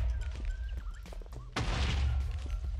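A big blast of destabilized coal in a Minecraft mod bursts in abruptly about halfway through as a loud, broad roaring explosion that rumbles on to the end, following quieter game sounds and a faint earlier thud.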